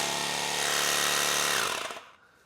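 A Lasfit portable offroad air compressor runs loud and steady with a harsh buzzing motor drone, then winds down and cuts off near the end, leaving quiet.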